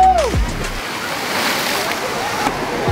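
A swimmer plunges into outdoor water after a double gainer flip dive. A quick whoosh and splash give way to steady sloshing water and wind noise on the microphone.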